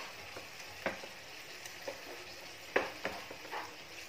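Fenugreek seed curry with spices sizzles faintly in hot oil while a spoon stirs it, leaving a low frying hiss broken by a few scattered scrapes and taps.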